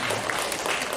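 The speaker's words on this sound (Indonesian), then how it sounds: "Tepuk tangan dulu untuk Bedui" Brief applause from a seated audience at a school teachers' presentation session, a dense soft patter of clapping hands for about a second, moderately near, with no voices over it.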